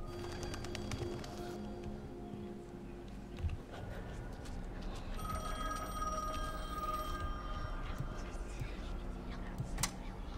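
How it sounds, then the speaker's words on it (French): A telephone rings faintly in the horror game The Medium, a thin high ringing rising over a steady low background rumble, with occasional soft voices. "Téléphone?"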